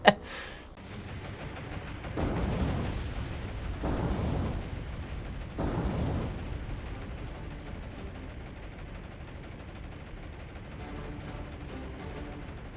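Torpedoes strike ships in the naval video game War on the Sea, giving three heavy, rumbling booms about two seconds apart. A low roar lingers after them.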